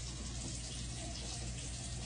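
Water from a tap runs steadily as a bedpan is rinsed at a sink in a nursing skills setting, a continuous, fairly quiet gushing stream with no talking.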